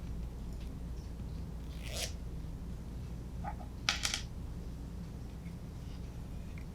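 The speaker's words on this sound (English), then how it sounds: "I'm going to pull the zipper." A zipper is pulled open during a Montessori opening-and-closing practice lesson, heard as two short, faint rasping pulls against a quiet room background.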